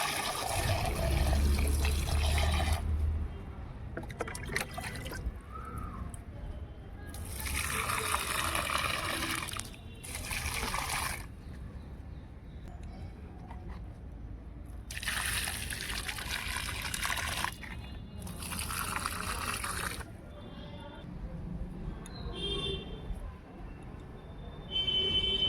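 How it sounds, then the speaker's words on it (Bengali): Water poured from a bucket onto potted plants on a rooftop comes in several separate bursts of splashing and trickling, each a few seconds long, with quiet gaps between them. "এই যে ছাদে এলাম গাছে জল দিতে। তো বালতি করে নিচ থেকে জল নিয়ে এলাম।"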